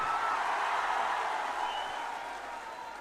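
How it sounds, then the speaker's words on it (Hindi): An audience claps at a protest gathering in a large outdoor crowd. The sound is a distant, diffuse wash with no distinct individual claps, and it fades slightly toward the end. "अपने लिए जोरदार ताली बजाइए बैठकर आप।"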